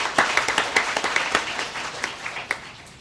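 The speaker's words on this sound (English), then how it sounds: "let's just have a round of applause for all of those folks who helped make this possible" An audience at a public health talk on coordinated care organizations gives a round of applause, with many hands clapping in a dense, fairly short burst that rises and then tapers off.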